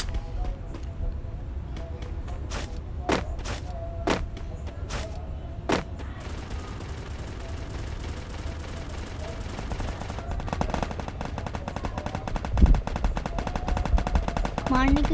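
Gunfire in the mobile battle-royale game Free Fire: a handful of sharp single shots early on, then sustained rapid automatic bursts rattling continuously, loud and up close with in-game background noise.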